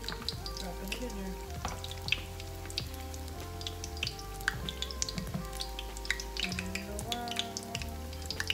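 Battered Oreos dropped into hot oil for carnival-style fried cookies, giving a steady, dense crackle and sizzle throughout with scattered sharp pops, sitting close and constant, with brief background tones over it.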